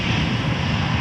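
A steady, loud, low roar of an Aer Lingus Airbus A321 XLR jet at an airport, continuous and unbroken for the whole moment, with no voices.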